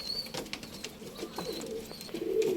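Pigeons coo softly while feeding in a backyard coop at dusk: faint, low, rounded calls repeat through the clip over quiet background noise, with a few thin chirps mixed in and no talking.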